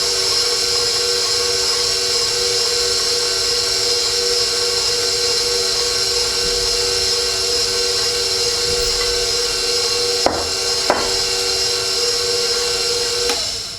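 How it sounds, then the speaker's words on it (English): An electric mixer beats cinnamon roll dough at its lowest speed, a steady whirring drone that runs unbroken and fairly loud throughout, with a couple of brief clicks near the end. "we're going to beat that at low speed, the lowest we can, just to mix it in"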